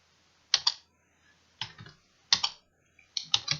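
Computer keyboard keys tapped in short bursts of a few quick clicks separated by pauses, close and clear in a quiet room.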